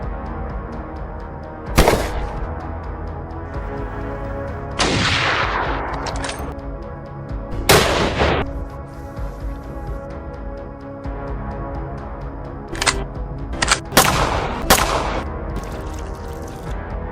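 Rifle gunshots ring out during a bear hunt, several sharp loud cracks spaced irregularly, some in quick pairs, over a steady outdoor background hiss.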